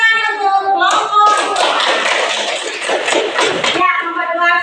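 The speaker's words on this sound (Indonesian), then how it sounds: "kasih tepuk tangan untuk kelompok" A classroom of students claps together for a student group, a burst of loud, close hand clapping lasting a few seconds, with a voice speaking just before and after it.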